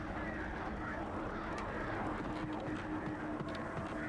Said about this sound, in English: Ah, it's the birds.